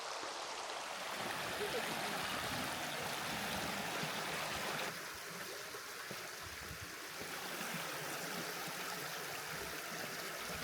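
A woodland stream near a waterfall in Cornwall rushes steadily beneath the trees during light rain, making a continuous, even roar of flowing water with no voices heard.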